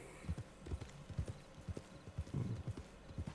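Horse hooves clip-clop at a steady walking rhythm in Red Dead Online, with close, distinct, regularly spaced thuds running throughout and no other sound competing.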